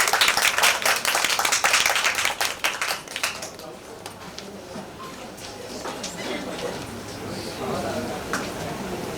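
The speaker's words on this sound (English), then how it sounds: "So let's give her a big round of applause, guys." An audience at a moms' talk event claps for a guest, the applause dense and loud at first, then thinning into scattered claps; a voice speaks over it.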